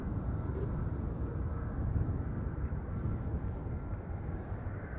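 A KLM passenger airliner, arriving from Cape Town, rumbles steadily at Amsterdam Schiphol on a misty morning, a broad, continuous low engine roar holding at an even level throughout with no voices.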